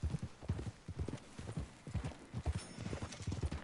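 Horse hooves clip-clop at a steady walking gait in Red Dead Redemption 2, a close, rhythmic series of soft thuds on the ground.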